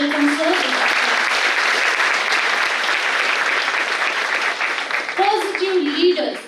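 Steady applause from an audience at an International Nursing Day event at a nursing institute, a dense continuous wash of clapping that welcomes a guest, with a voice speaking over it briefly at the start and again as it fades.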